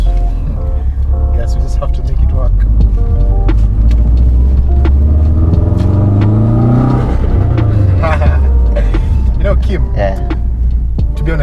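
Manual Subaru Forester SG9 STI pulling onto a road, its engine rumbling and revving up through the gears, with rising and falling pitch under steady talk from people inside the car.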